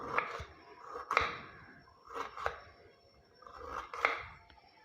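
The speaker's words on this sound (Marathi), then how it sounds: "त्याचे असे छोटे तुकडे करून घेऊया आता" A knife cuts beetroot into small pieces, giving soft rhythmic chops about once a second, close and quiet with no talk.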